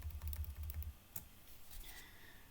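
Commands being typed on a computer keyboard in a Linux terminal, with a quick run of soft, fast key clicks up close, then a single sharper tap and quiet room tone.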